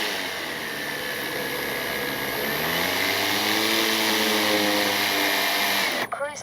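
An RC airplane propeller motor, an Avios Extra NG 300, whines steadily and loud nearby, its pitch rising and falling smoothly as it shifts into reverse thrust, then cutting off abruptly near the end.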